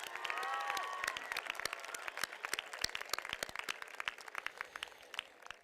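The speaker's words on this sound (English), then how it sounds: "Let's give them one more round of applause." A graduation ceremony crowd claps for the graduating seniors, a dense patter of many hands at moderate distance, with a brief whistle early on and the clapping gradually thinning toward the end.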